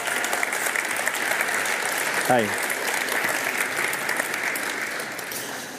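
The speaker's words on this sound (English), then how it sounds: "Big hand, big applause for Mariana." Sustained audience applause at an award ceremony fills the space, dense clapping throughout, with a brief spoken greeting over it midway.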